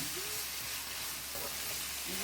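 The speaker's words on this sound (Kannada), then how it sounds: "ಆನಿಯನ್ಸ್ ಅರ್ಧ ಫ್ರೈ ಆದಮೇಲೆ ಈಗ ಟೊಮ್ಯಾಟೊ ಆದಮೇಲೆ ಇಲ್ಲಿ ಗ್ರೀನ್ ಚಿಲ್ಲೀಸ್ನ ತಗೊಂಡಿದ್ದೀನಿ" Onions, tomatoes and green chillies fry in a pan with a steady, continuous sizzle, close and moderately quiet, broken by brief stirring scrapes and no talk.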